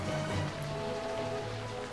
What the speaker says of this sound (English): it's raining here at least